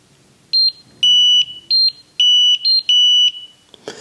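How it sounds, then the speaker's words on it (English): A TwoNav GPS device sounds its off-course alert, a sequence of shrill two-tone beeps in short bursts, loud and close, followed by a soft click. "that was the sound that you would hear when you've got near a waypoint, you go off course"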